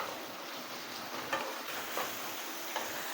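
Onions fry in a pan with a salt addition, a steady low hiss of frying with a few soft stirring scrapes, fairly quiet and without speech.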